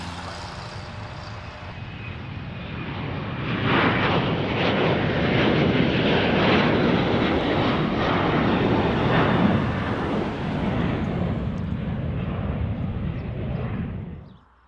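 Fixed-wing airplane at Bozeman Yellowstone International Airport, a loud, steady roar of jet engines on the runway that swells after a few seconds, holds broadly, then cuts off abruptly at the end.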